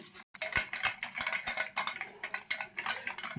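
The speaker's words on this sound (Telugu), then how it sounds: "మైదా, ఎగ్గు, సాల్టు, పెప్పర్ అంతా బాగా కలిసే విధంగా కొంచెం బీట్ చేసుకుందాము" A fork beats a batter of maida, egg, salt and pepper in a bowl, giving rapid, rhythmic metallic clicks against the bowl. The strokes are close and steady and carry on throughout.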